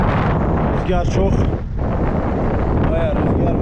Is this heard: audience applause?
no